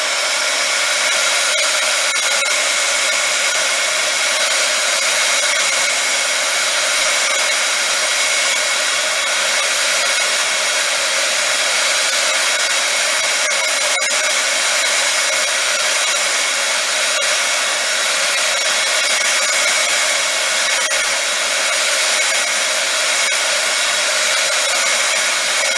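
Heat gun blowing hot air over a resin piece to soften and bend it, a loud steady whooshing roar that runs unbroken and close for the whole stretch, with no talking.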